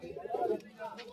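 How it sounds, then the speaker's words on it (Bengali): A Rampuri Kashmiri pigeon at a busy pigeon market gives a short, soft, low coo, close by, with a voice talking faintly around it. "এটা কি পায়রা আছে গো? রামপুরি নাকি?"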